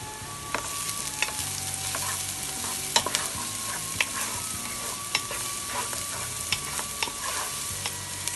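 Finely chopped garlic and onions sizzle steadily in a pan while a spoon stirs them, with repeated sharp scraping clicks against the pan over a continuous close frying hiss, no speech.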